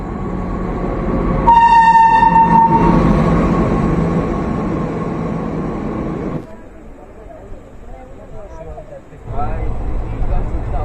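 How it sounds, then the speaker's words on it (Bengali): A train pulls into a railway station with a loud horn blast followed by a steady rumble of rolling wagons that fades, then swells again, while people talk nearby. "ওই দেখো ট্রেন ঢুকছে।"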